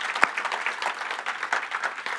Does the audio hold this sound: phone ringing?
no